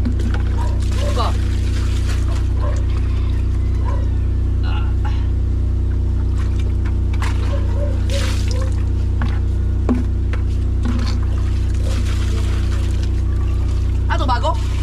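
Water is poured from a bucket while fetching water during a power outage, a splashing, trickling pour with drips under almost continuous talking voices.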